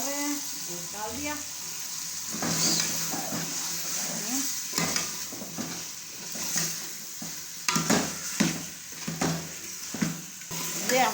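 Chicken meat fries in masala for Pakistani chicken nihari, with sizzling and the repeated scrape of a spoon stirring in the pot, while a person talks quietly over it.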